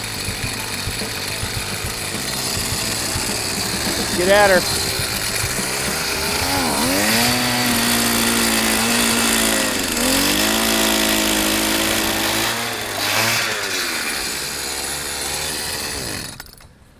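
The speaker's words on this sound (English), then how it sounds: "Just drill until we mark something." A powered ice auger drilling holes through the ice of a lake basin while fishing, its small engine loud and close, revving up and down in several surges before cutting off, with a brief spoken remark.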